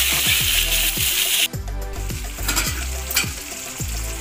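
Tomato sautés in hot oil for egg curry, a continuous sizzle with a sharp burst of hiss near the start and rhythmic scraping knocks from a spatula stirring the pan.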